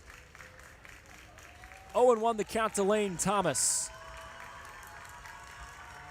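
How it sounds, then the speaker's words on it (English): A minor-league baseball crowd at AutoZone Park in Memphis, a few thousand fans, bursts into cheers and clapping for a few seconds, then dies back to a low murmur, with a play-by-play voice calling the game over it. "Crowd that stuck around trying to make some noise and spur the Birds back in this ball game"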